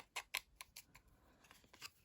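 Sharp scissors snip ribbon to length for a handmade Stampin' Up! tulip card, several crisp close cuts in an uneven rhythm, the first two loudest, then lighter trailing snips in a quiet room.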